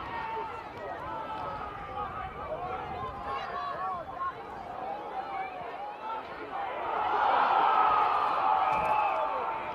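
A crowd at a country football grand final between Birchip-Watchem and Donald yells and chatters in a continuous roar that grows louder near the end, with a commentator talking over it.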